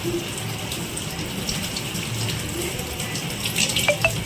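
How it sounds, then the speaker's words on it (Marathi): Crabs being scrubbed with a toothbrush under a running tap, a steady stream of water splashing into a sink throughout, with faint brushing scrapes and a few brief clinks near the end. "आपला दाताचा ब्रश आहे पाण्याखाली घ्यायचं आणि असं खसाखस खसाखस खसाखस घासायचं"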